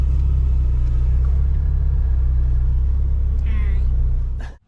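Vauxhall Nova car driving with its gear linkage held by a cable tie, a steady loud low engine rumble throughout from inside the cabin, with a brief squeak near the end before it cuts off.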